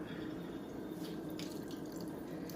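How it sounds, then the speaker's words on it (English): Water trickles and drips steadily from wrung-out grated zucchini in a home kitchen, a faint, continuous wet patter close by with no talking. "once it gets to the point where it's just dripping, then it's good enough"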